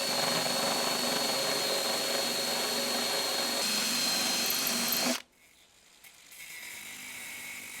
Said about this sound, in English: I only want to cut through the outside layer of steel.